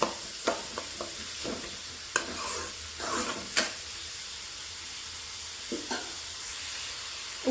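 Onions sautéing until golden brown in a pan for potato bonda, a steady sizzle with intermittent scraping stirs of a spoon, close and fairly loud with no talk.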